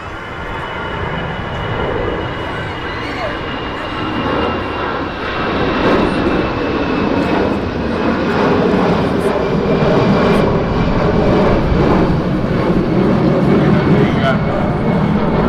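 Lauda Airbus A320 taking off from Manchester, a loud broadband jet engine roar that builds and stays strong, with people talking over it.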